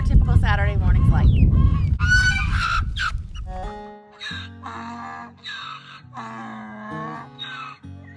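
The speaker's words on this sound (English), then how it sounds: "because our goose is always talking" Goose on a homestead honking loudly and close, long wailing calls and harsh honks, with a breathy low rumble at the start.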